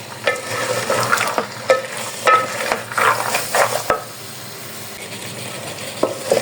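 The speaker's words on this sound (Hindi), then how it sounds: "इसको भी हम आलू के साथ अच्छी तरह फ्राई कर लेंगे।" Green chickpeas and potatoes fry in a pan for aloo choliya sabzi, with a steady sizzle broken by repeated scraping stirs and light utensil clinks against the pan, close and fairly loud, no voices.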